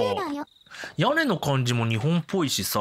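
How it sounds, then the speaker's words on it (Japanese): Bell cricket chirping in a Yume Nikki fangame set in a Japanese-style town, a steady high chirp running under continuous talk through most of the clip. "スズムシの声も日本っぽいんだよな。"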